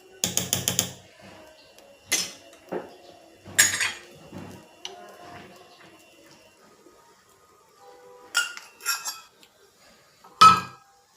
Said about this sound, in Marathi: इथं मी तवा टेकवलेला आहे डोशाचा